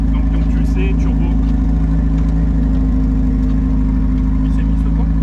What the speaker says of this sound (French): Je voudrais proposer une démarrage avec la voiture.